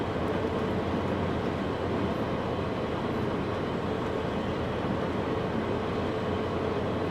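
An Amfleet II passenger train runs in a railway video game with a steady, even rumble and wheel noise that holds at the same level throughout, with no talk.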